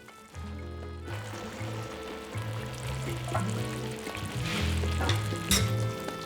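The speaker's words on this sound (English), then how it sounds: "We've cooked it 3/4 of the way to al dente in the pot, and now we finish it in the pan." Pasta cooked three quarters of the way to al dente finishing in a pan of Amatriciana sauce, a steady close sizzle and frying hiss running throughout with faint stirring and musical tones underneath.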